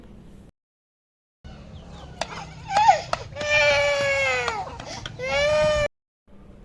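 A young child cries in loud, wavering wails, rising and breaking, close by, with brief silences between and some background noise.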